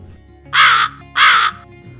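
A crow gives two loud, harsh caws close by, evenly spaced with a short pause between them, over a faint low background hum.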